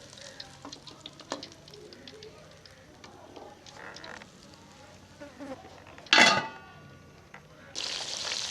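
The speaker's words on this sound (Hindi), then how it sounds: "इन्हें थोड़ा सा फ्राई और कर लेंगे।" Fish pieces for fish karahi frying in hot oil, a soft crackling sizzle under stirring and utensil clinks, with two sharp louder bursts of spattering sizzle near the end.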